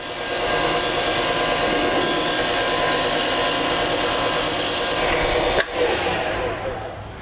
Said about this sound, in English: we'll just use a spindle gouge